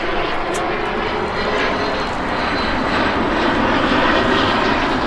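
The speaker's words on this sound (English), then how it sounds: "Yeah, it's a private jet." A small private jet passes overhead, its engine roar a steady loud broadband drone that swells slightly toward the end, with a voice briefly heard beneath it.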